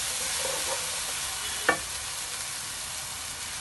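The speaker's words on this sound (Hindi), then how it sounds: "इसको हल्का सा सौते करेंगे।" Garlic and ginger sautéing in a pan for methi aloo on medium-high heat, a steady bright sizzle with faint stirring and one brief scrape of the spoon midway.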